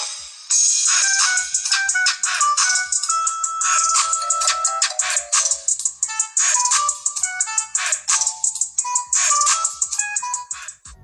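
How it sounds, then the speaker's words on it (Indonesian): A loud polyphonic ringtone from a G Plus G168 mobile phone plays bright chiming melodic notes in a quick, steady rhythm for about ten seconds, close and alone with no talking. "Kalau untuk suaranya emang kenceng banget nih handphone."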